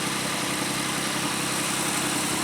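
A car engine idles on fresh, clean oil after an oil change, a steady even hum held close and unbroken with no talk over it.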